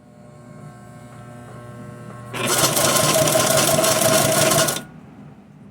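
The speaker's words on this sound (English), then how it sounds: "then it stitches right next to it" A sewing machine stitches leather cording in one continuous whirring run of about two and a half seconds, loud and close, over a low mains hum that continues before and after.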